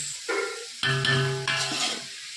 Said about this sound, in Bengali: রাইসটা দিয়ে এবার নাড়াচাড়া করব, এটা হয়ে যাবে আমার রাইস